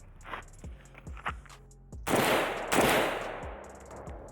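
Shots from a Pioneer Arms 556 sporter underfolder AK rifle, several sharp single reports in quick succession followed by two louder, longer blasts, close and loud outdoors.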